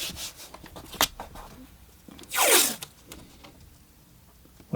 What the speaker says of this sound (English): So I just simply put some artist tape